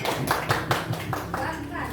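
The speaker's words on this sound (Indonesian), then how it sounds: "Tepuk tangan untuk Boki." Classroom pupils clapping their hands together in quick, fairly regular bursts that then blur into looser applause, with a voice speaking over them throughout.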